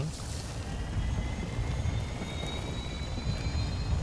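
Aircraft engine in the video game Call of Duty DMZ, a steady low roar and broadband rumble with a faint rising whine above it, holding constant throughout without voices.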